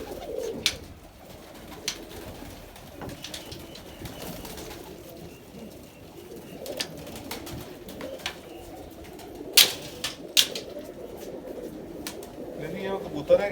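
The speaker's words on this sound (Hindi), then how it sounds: "ये कबूतर है इंडियन जिसका मैंने पेयर लगाया था" Indian pigeons from a breeding pair coo in soft, low repeated calls near the microphone, mixed with light rustling and a few sharp knocks, while someone talks quietly at times.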